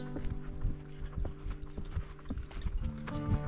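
Hooves of Ruby, a pony, clip-clop in a quick trotting rhythm, a series of close, sharp thuds over a constant low hum, with no voices.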